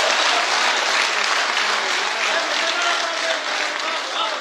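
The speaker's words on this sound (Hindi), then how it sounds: "एक बार जोरदार तालियों से इस्तकबाल किया रहा है अब्बास कमर का।" A crowd at a poetry recital breaks into loud, sustained applause, many hands clapping steadily with only slight ebb toward the end.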